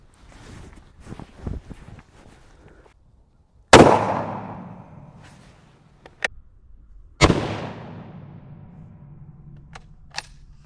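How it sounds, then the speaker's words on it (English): A .270 Winchester rifle fires two loud, sharp shots a few seconds apart into 5 lb bags of flour, each blast ringing out with a long decaying echo outdoors, with small clicks and handling noises between. "let's see how far the 270 Winchester can make it through the bags of flour"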